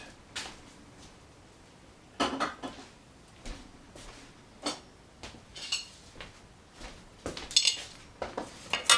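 Quiet clinks and scrapes of a plate and cutlery sound sporadically in a home kitchen as boxed Roni rice is served, with small sharp taps growing busier toward the end.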